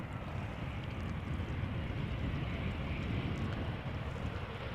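Embraer 190 airliner arriving at Amsterdam Schiphol, a continuous dull rumbling roar, steady and moderately distant, with no distinct peaks or breaks.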